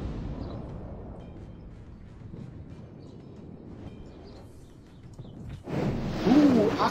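A heavy ship broadside in the World of Warships naval game booms near the end, a loud low blast rising out of a steady rumble of engine and sea ambience, with no talk.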